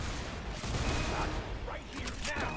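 Gunfire in a high-level competitive shooter scrim, including a shotgun blast, with sharp bursts scattered through busy, continuous game noise and a commentator talking faintly underneath.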